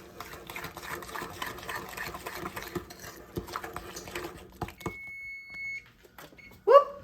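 An electric mixer whirs steadily through cheesecake cupcake batter at close range, a buzzing motor sound that stops abruptly and is followed by a single electronic beep and a brief clatter.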